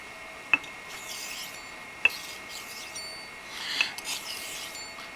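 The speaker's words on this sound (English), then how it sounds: "very light strokes on the Chosera 1K, and reset the bevel" Knife edge stroked lightly on a Chosera 1K whetstone with one layer of tape on the blade, soft raspy scraping passes punctuated by a few sharp faint clicks, quiet and close with no talking.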